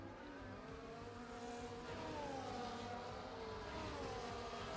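A safety car driving in the racing game F1 24 at the Qatar circuit, a continuous engine drone with a slowly rising and falling pitch, steady and fairly quiet, with no voices.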